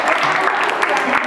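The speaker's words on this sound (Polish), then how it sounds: "Duże brawa dla Kingi" Brief burst of applause from a crowd at a children's talent show, honoring a girl named Kinga, dense clapping lasting about a second.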